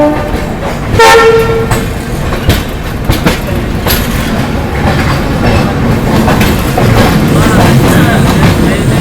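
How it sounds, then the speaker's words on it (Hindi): Mumbai Rajdhani Express pulling out of New Delhi railway station, a loud close train with a horn toot near the start, then continuous rumble and clatter of the wagons. "अपनी ट्रेन निकल चुकी है न्यू दिल्ली रेलवे स्टेशन से भी।"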